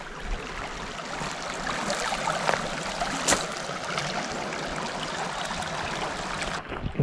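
A creek flows right beside a campsite, with steady broadband rushing and trickling water that stays close and fairly loud throughout, marked by a few brief splashy bursts.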